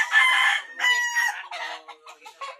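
Chickens and a rooster crow and cluck close by in a series of loud, overlapping calls, with no talk over them.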